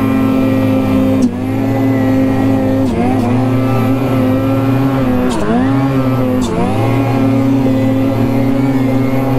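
Snowmobile with a 154 turbo engine droning loudly and close, a steady tonal hum that dips and recovers several times as the throttle shifts while riding.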